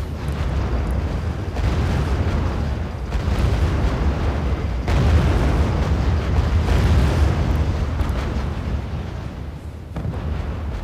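Explosions from a tank battle in the strategy video game R.U.S.E. pile into a dense, continuous roar of low booms and rumbling blasts. It stays loud throughout, with brief dips between waves of fire.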